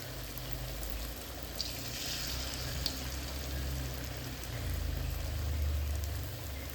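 Sweet potato pieces deep-frying in plenty of oil make a steady, dense hiss and crackle like rain, close and continuous throughout with no talking.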